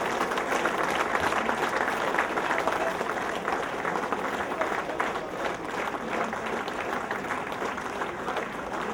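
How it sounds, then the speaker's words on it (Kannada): A gathered audience applauds loudly and steadily at an honouring ceremony for descendants of Sangolli Rayanna, a dense, continuous roar of clapping with crowd murmur that holds its level throughout. "ಬಂಧುಗಳೇ, ಜೋರಾಗಿ ಚಪ್ಪಾಳೆ ದಯವಿಟ್ಟು"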